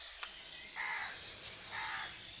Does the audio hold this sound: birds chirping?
yes